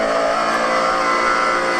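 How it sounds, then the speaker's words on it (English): A race car engine screams at high revs, loud and sustained, with slight wavering modulations in pitch throughout. "you can hear the car in that high rev range"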